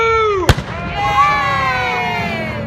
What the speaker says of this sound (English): The cannon gets closer.